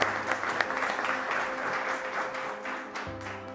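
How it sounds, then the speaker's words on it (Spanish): An audience applauds participants at the opening session of an entrepreneur program, producing a continuous, dense wash of clapping at a steady level with a faint hum underneath. "Un aplauso para ustedes."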